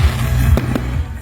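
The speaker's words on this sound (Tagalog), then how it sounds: "ang nakalingaw sa tanan mao ang fireworks display" Fireworks at a town celebration in Tacurong boom and crackle through a dense, loud rumble, with two sharp bursts standing out close together.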